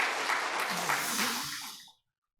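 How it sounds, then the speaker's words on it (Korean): A church congregation at a Sunday worship service applauding together, a loud even burst of clapping that fades quickly and stops abruptly into silence after about two seconds. "우리 잘 하시라고 박수 한번 합시다"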